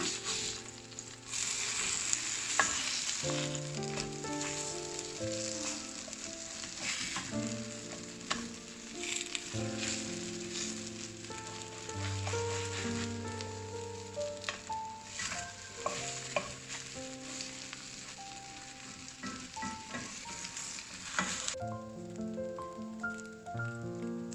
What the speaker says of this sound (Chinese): 翻过来，将另外一面也煎至金黄。